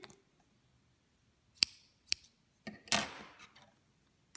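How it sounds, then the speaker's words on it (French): Scissors snip through crochet yarn in a few sharp, close, separate cuts, with quiet pauses between them. "Là, on n'a plus qu'à couper."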